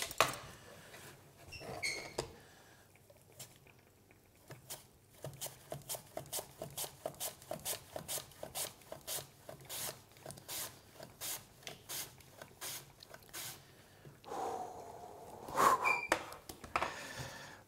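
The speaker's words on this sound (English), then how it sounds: "I'm gonna use my trusty mandolin and try not to take my fingers off" Thin potato slices come off a mandolin, with a rhythmic series of sharp rasping strokes forming a steady run in the middle before a pause. Quieter handling noises surround it, and no one speaks.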